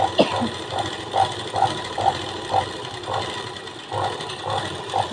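A sewing machine stitches the neckline edge of an old-style blouse in short, regular bursts of whirring, each run of stitches separated by brief pauses, close and moderately loud.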